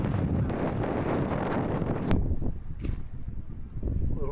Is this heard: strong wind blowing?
yes